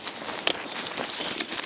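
A big plastic bag wrapped with a rubber band is handled close by, giving a steady, continuous crinkle with a few sharper crackles and no talk.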